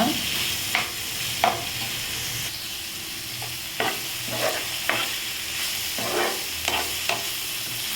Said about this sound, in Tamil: இப்படி நல்லா பொன்னிறமாக வதக்கி எடுத்துக்கோங்க